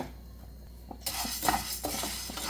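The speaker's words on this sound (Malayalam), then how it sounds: "ഇനി സെയിം പാനിലേക്ക് ഞാൻ ഉഴുന്നാണ് ചേർക്കുന്നത്" Whole urad dal tipped into a hot pan, which starts sizzling partway through, followed by a spoon scraping and stirring the lentils as they roast, close and fairly loud, with no voices.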